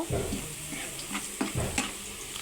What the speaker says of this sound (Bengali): পেঁয়াজটা এখন লাল করতে দিয়ে দিলাম।